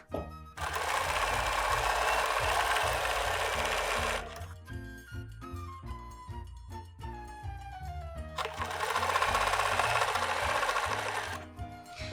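A quilting sewing machine stitches steadily along a template in a loop-to-loop pattern. It whirs loudly for a few seconds, slows through a falling whine, then runs loudly again.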